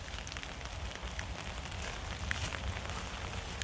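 Steady rain patters on a shelter top in woodland nearby, a constant even hiss with scattered drops, no voices.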